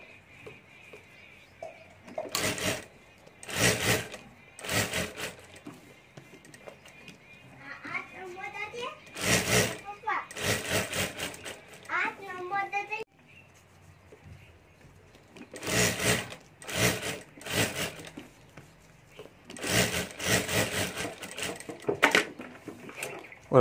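A sewing machine stitches all around a plastic lamination over a rubber sheet and fabric for a homemade lunch box, running in repeated short bursts with pauses while someone talks between them.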